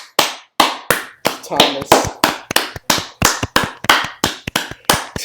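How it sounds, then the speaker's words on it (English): Sharp, close hand claps in a steady rhythm, about a dozen distinct smacks, follow a dramatic reading performance, with a voice briefly speaking among them. "Let's give a round of applause"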